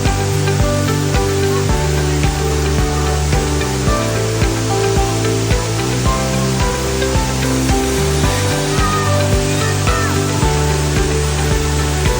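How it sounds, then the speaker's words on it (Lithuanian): A steady, roaring rush of falling water from a wild waterfall in Thailand fills the whole stretch, dense and unbroken, with a faint tonal hum underneath. "Jis yra laukinis krioklys"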